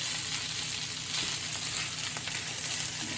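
Bacon bits frying and browning in butter in a pan, giving a steady, close sizzle with faint stirring scrapes and no voices.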